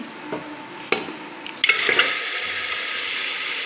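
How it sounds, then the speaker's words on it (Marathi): Mutton dropped into hot oil in a pan, a sharp thump followed by a sudden, steady loud sizzle that carries on to the end, close by. "तेल गोई गरम झालेलं आहे आता आपण ह्याच्यामध्ये मटण"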